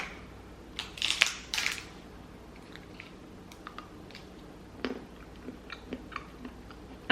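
Chewing a bite of a dark chocolate sunflower seed butter cup, with a few soft crunchy bursts close up, then quieter scattered mouth clicks and small chews against a near-silent background.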